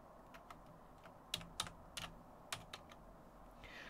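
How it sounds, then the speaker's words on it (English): Someone types a discount code on a computer keyboard: a dozen or so separate key taps in an uneven rhythm, some sharper than others, over a quiet room. "I'm going to type that in,"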